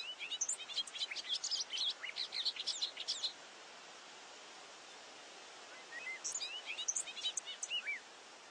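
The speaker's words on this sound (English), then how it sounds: "A bird who lives in open fields can have a fast, complicated song like this bobolink." A bobolink in an open field sings two bursts of fast, bubbling, complicated song, a tumbling run of high twittering notes, separated by a few seconds of quiet hiss, clear and fairly close.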